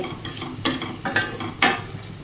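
A spoon scrapes and stirs uggani mixture with puffed rice and tomato in a pan over a low flame, making three or four distinct scraping strokes over a faint background sizzle.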